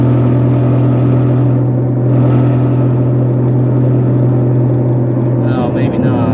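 A 2003 Saturn Vue AWD drives down the road, heard from inside as a loud, steady engine hum and road rumble with a constant low drone, and a voice speaks over it.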